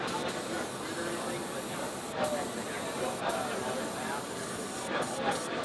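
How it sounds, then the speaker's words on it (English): Steady broadband hiss of an airbrush spraying continuously, fairly close, with a few brief breaks in the flow. "So I'll go ahead and get the airbrush primed."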